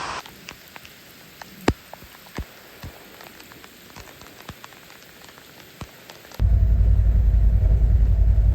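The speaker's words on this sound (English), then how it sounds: "We'll keep an eye on this rain, see what happens from it." Heavy rain falls on a wooded off-grid homestead, a steady wash of drops with scattered sharper patters and a single louder splat, before a sudden surge into a much louder, denser roar for the last couple of seconds.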